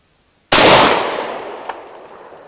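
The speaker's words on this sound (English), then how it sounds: "You chamber around. You fire one, and I'm going to hold the trigger for a second." One sharp, loud gunshot from a firearm in a demonstration of automatic weapons, a sudden crack with a long reverberant decay and nothing else around it.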